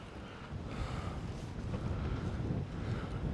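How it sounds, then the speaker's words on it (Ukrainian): Steady wind buffets the microphone over rushing water at a reservoir in Sumy region, Ukraine, with rain, a low rumble throughout and no voices. "Дощ, вітер."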